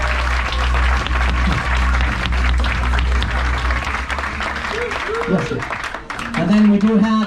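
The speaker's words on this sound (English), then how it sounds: "if we want to give really a big round of applause for the First Lady here, which is our housekeeper" Applause from an audience aboard the Viking river cruise ship Radgrid, cheering their housekeeper; steady clapping fills the room with background voices and chatter mixed in, and a few brief tonal sounds near the end.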